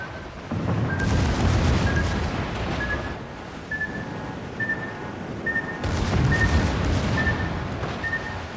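Naval guns roar in World of Warships, two long bursts of heavy gunfire and rumbling blasts with a steady repeating warning beep running underneath.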